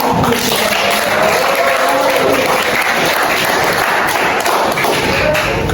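An audience at an Indonesian teacher-training session applauds, dense steady clapping filling the room at full volume for several seconds, with faint voices beneath it.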